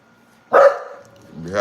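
Puppies give a single loud bark burst close by, then a quieter whimpering yelp follows after a pause, with a faint low hum underneath.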